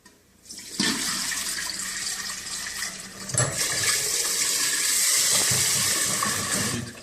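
Water gushes loudly and steadily as rice is washed for temaki, with a splashy onset, a second surge midway and continuous rushing for about six seconds, no speech.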